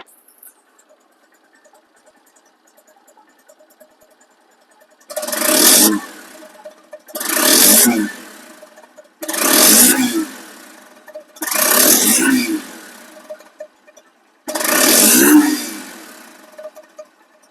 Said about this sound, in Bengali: বাইকটি এমন সাউন্ড কোয়ালিটি শুনুন